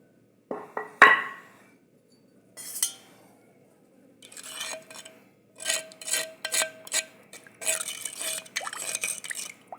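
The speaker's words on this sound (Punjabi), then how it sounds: "ਚਮਚੇ ਨਾਲ ਹਿਲਾਵਾਂਗੇ" A spoon stirs rose-petal thandai with almonds in a glass or pot, producing close, intermittent bursts of scraping and light clinking separated by short silences.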